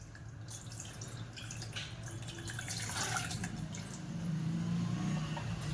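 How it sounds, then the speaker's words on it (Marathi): A faint, steady trickle of water runs into a bowl of flour batter being prepared for kurdai, quiet and close, with no talking. "आता मी हे रात्रभर याच्यात थोडंसं पाणी घालणार आहे आता अजून."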